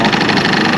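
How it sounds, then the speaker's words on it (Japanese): Honda Live Dio ZX scooter engine idling close up, a steady dense mechanical whir from its upgraded forced-air cooling fan with light rattling over a continuous hum. "ファンの音やな、これ。"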